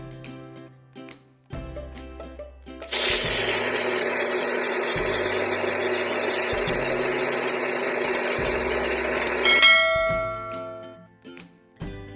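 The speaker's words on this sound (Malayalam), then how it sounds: "ഇനി നമുക്ക് ഈ അരി ഒന്ന് അരച്ചെടുക്കാം." Mixer grinder blending soaked rice into dosa batter, a loud, steady high-pitched whir lasting about seven seconds, framed by quieter kitchen clatter before and after.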